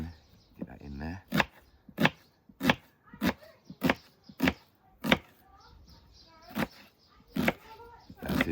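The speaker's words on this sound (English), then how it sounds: "Chop up this onion, get that in there." A knife chops an onion for chicken soup cooked on an authentic Jamaican coal stove. About a dozen crisp, close strikes land in an uneven rhythm, with brief talk at the start.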